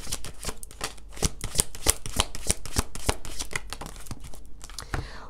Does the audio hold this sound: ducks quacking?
no